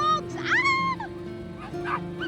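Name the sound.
dogs barking as they are released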